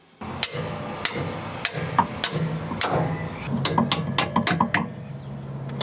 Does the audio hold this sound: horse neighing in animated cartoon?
no